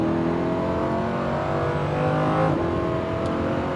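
A Lamborghini Huracan accelerates hard on a racetrack, its engine note rising steadily and loud in a continuous close-up roar with a brief shift around midway.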